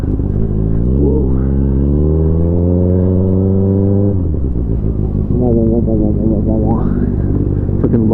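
A Yamaha MT-09 motorcycle revs hard and loud close up while being ridden, its engine note climbing through a long pull, dropping at a gear change, then rising again under acceleration.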